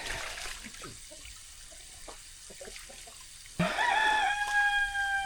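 Chickens cluck and squawk in a chicken coop after rain, with one bird letting out a loud, drawn-out cry near the end over steady background noise.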